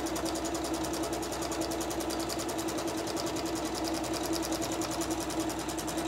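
A Janome MC12000 sewing machine runs steadily, stitching at an even pace with a fast, regular mechanical chatter and hum, close and continuous with no talking.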